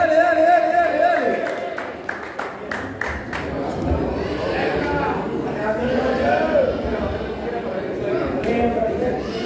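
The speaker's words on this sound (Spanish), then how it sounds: "un fuerte aplauso" Crowd noise from a freestyle rap competition, with a dense, steady wash of clapping and shouting while a voice talks over it throughout.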